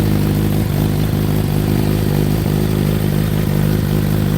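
A motorcycle engine on a cold start runs with a steady, low chugging idle, close and loud, a constant rumble with slight clatter and no voices.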